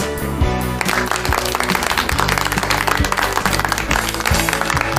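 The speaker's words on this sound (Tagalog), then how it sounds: "bibigyan ko kayo ng masigabong palakpak" Loud, dense applause from a crowd in a steady continuous burst of overlapping claps with a rhythmic beat underneath, lasting the whole stretch.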